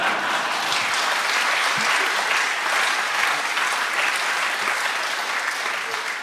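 Ceremony audience applauding at the end of a speech, a dense, steady roar of many hands clapping that fills the space throughout.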